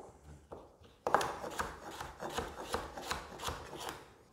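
A knife cuts through pieces of red kuri squash (potimarron) on a board, making a quick run of firm, evenly spaced chopping thuds close by after a brief quiet start.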